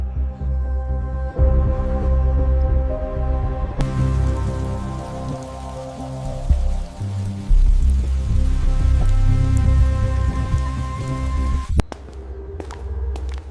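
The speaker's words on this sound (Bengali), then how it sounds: "রাত তখন প্রায় 1টা। বাইরে ঝড় বৃষ্টি।" Heavy stormy rain pours down at night, a dense, loud, continuous wash of drops with rumbling low tones, lasting throughout before cutting off abruptly near the end.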